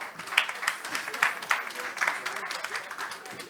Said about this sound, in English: Please, can the panel be given a round of applause?